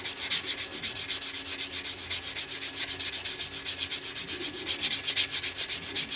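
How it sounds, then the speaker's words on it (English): Steady abrasive rubbing as the cut edge of a coin ring, made from a quarter or Susan B Anthony dollar, is sanded by hand, a continuous close rasp with slight rhythmic strokes and no voices. "What I'm doing here is I'm sanding the cut edge."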